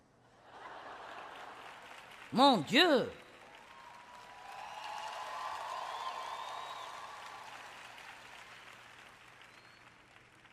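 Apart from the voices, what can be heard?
audience applause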